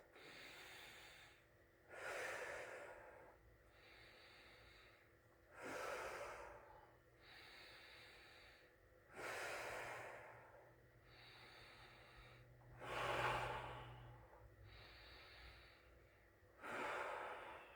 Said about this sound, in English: We're going to hold this pose for 5 nice deep breaths.